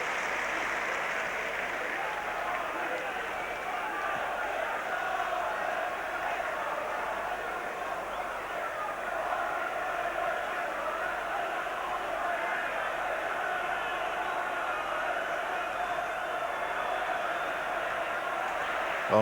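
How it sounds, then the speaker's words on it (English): A football crowd at an Everton v Newcastle United match applauds in a continuous, dense wash of clapping and crowd noise that holds steady and fairly loud for the whole stretch. "And the crowd applaud"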